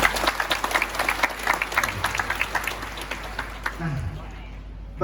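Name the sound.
applause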